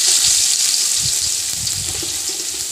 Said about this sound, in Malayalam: സവാള നല്ലതുപോലെ വഴുക്കിയെടുത്തിട്ടുണ്ട്